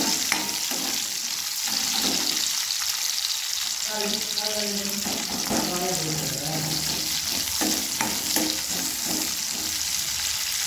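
Onions sizzling in hot oil in a pan while broccoli fry is being cooked: a steady, close frying hiss runs throughout, with occasional clinks and scraping of a spoon and some faint voice in the background.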